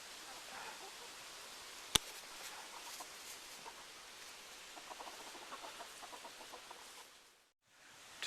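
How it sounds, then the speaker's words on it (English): Black Jersey giant chickens cluck softly and intermittently at a distance, with one sharp click partway through and faint background noise throughout. "that's Francoise, the black Jersey giant"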